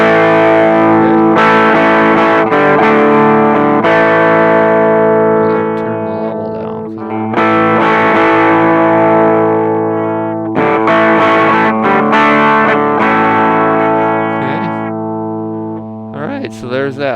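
An electric guitar played through a Red Plate Blackloop amp with the drive turned up rings out in loud, sustained distorted chords and notes, with bright tone and a few pauses between phrases.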